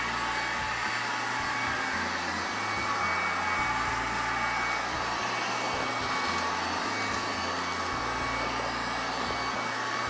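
A MOOSOO K23 Pro cordless stick vacuum cleaner runs continuously with a steady high whirring hiss and a low fluctuating motor hum, close and alone without talk.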